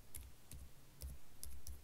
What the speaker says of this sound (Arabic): الآن أكتب داخل القوسين باللغة الإنجليزية